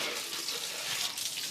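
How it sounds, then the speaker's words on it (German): Warm water runs from a kitchen tap in a farmhouse kitchen, a soft steady hiss of flowing water at low volume with no talk. "Simon, warmes Wasser rauslassen."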